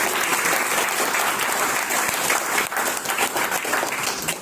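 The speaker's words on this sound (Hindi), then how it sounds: "मैं एक बार तालियां चाहूंगा इसके।" An indoor audience claps steadily at a wellness business gathering, a dense, even wash of hand-clapping that stays loud for a few seconds and slightly thins toward the end.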